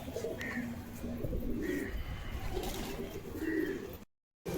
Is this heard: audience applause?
no